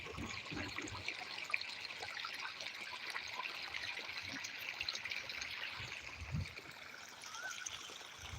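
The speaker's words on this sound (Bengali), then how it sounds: "এখানটা পানি দিতেছি আমি এই যে পানি বাইরে হইতেছে পাইপ দিয়ে" Steady trickling water runs continuously out of a pipe, a soft splashing flow at moderate distance with no voices over it.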